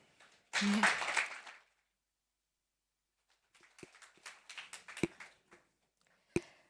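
Audience applause at a POLITICO Speakeasy session during the GLOBSEC Forum: a short, dense burst of clapping, followed by a pause and then scattered, uneven claps that trail off.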